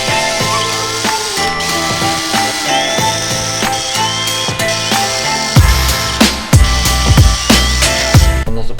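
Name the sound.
power tool driving screws on car front aero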